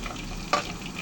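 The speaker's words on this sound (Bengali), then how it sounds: "কড়াইয়ের মধ্যে তেল দিছি তারপরে দিছি এলাচি দারচিনি লং এখন দিমু পেঁয়াজ" A wok of hot oil with cardamom, cinnamon and cloves sizzles softly in a steady hiss, then a brief louder crackle marks the onions going in.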